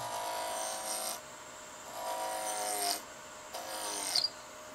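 A wood spindle spins at high speed on a lathe while a gouge roughs it out, giving a whining, scraping cut in three separate bursts with short pauses between them and no voices.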